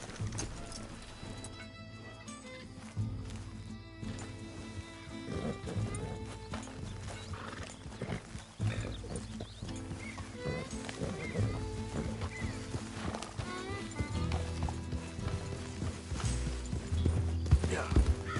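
In a video game, a horse gallops with quick, rhythmic clip-clop hoofbeats and gives a whinny, mixed with game sounds and background voices.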